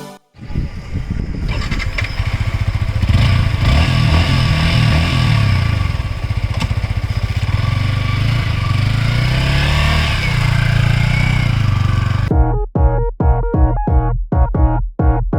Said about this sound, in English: So we're gonna ride this bike right now and tell you how is this bike.